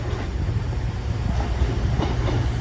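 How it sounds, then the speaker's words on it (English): The Avanti West Coast service from Crewe to Holyhead rolls into Chester station with a continuous loud rumble and faint rhythmic wheel clatter, and no voices are heard. "right here comes the 1010 Avanti West Coast service to Holyhead from Crewe"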